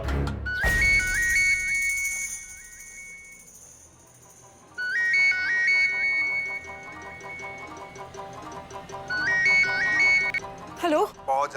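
Phone ringtone playing a repeated melodic electronic tune in three bursts separated by pauses, fairly loud and near, ending just before the call is picked up; people talk around it.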